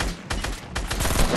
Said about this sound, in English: Those are shots coming from southwest somewhere